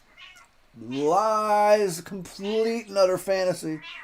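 A house cat meows loudly with drawn-out, rising and falling calls while someone talks over and between them close to the microphone.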